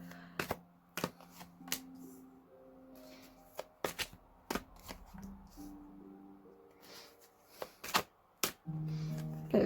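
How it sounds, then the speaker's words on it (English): Tarot cards shuffled and laid down on a surface: close, crisp slaps and flicks in an irregular rhythm, with a softer riffling shuffle near the end. "So 5 cards, Leo. That's what I'm being asked to lay down."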